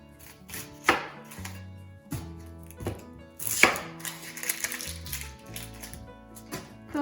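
Knife chopping and quartering vegetables on a cutting board while making turkey stock from turkey necks, with scattered sharp board strikes and rustling handling of pieces and skin in between.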